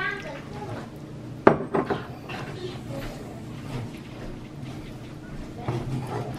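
Meat being stirred in a pan while cooking spaghetti, with a sharp utensil clank against the metal and then softer scraping and clatter, under people talking.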